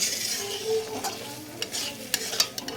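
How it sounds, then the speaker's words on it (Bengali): Fried paneer hits a hot pan with spices and is stirred, a close steady sizzle broken by scraping spatula strokes and light clinks against the pan, with no voices. "এবার আমি ভেজে রাখা পনিরটা দিয়ে দেব হালকা করে মশলা লাগিয়ে নিয়ে"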